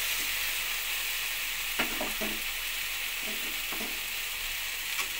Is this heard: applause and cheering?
no